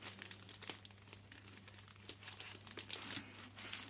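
Cardboard and plastic packaging of an SMD soldering station crinkles and rustles in repeated irregular bursts, close and moderately loud, with no talking.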